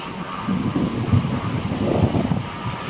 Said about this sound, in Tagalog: Grabe, oh, lakas ng hangin